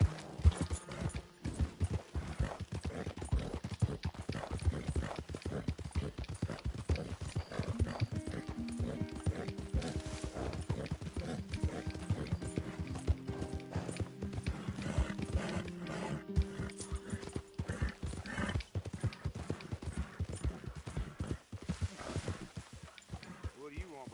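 A horse gallops in Red Dead Redemption 2, a fast drumming of hooves under game music and ambience with a whinny, close and busy throughout while a voice talks over it.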